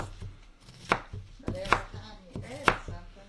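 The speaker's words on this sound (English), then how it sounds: "And I'm just rough chopping these onions." Knife rough-chopping onions on a cutting board for homemade chicken noodle soup: three distinct, sharp chops spaced about a second apart, with quieter knife taps and faint kitchen background between them.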